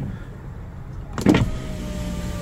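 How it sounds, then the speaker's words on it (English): A Honda CR-V power window gives one short motor whir as the glass slides down, a brief burst over the quiet hum inside the parked car. "These are the windows. One down, one push down."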